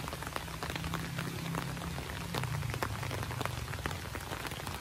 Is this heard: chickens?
no